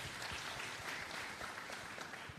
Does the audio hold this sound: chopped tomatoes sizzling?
no